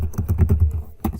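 Keystrokes on a computer keyboard while writing JavaScript for a weather app, a quick run of close, soft taps in a steady burst, a brief pause, then a few more clicks.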